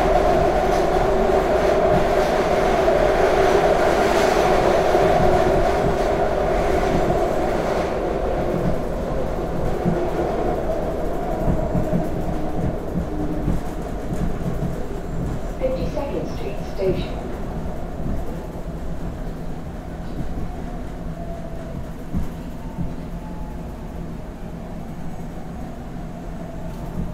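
A SEPTA Market-Frankford Line subway train runs loudly throughout, with a steady rumble and rattling wheel noise that gradually eases in level, while a voice is faintly present.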